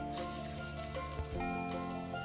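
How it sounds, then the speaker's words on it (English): Cumin seeds sizzling in hot garlic-infused oil in a pot, a steady close crackle and hiss with small pops throughout. "When hot, we're adding the jeera"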